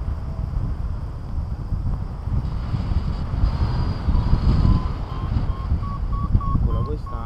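Strong wind during a paragliding flight buffets the microphone in a constant loud, rough rush that swells and eases, with a faint murmuring voice underneath.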